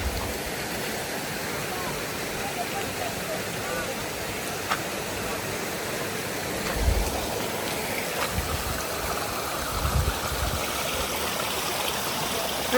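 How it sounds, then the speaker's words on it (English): A small mountain stream near Gosausee lake in Austria, pouring out from between stones into the lake, makes a steady, loud broadband rush of flowing water close by that continues throughout. "there is a stream here. You can see the water is coming out from the stone and going to the"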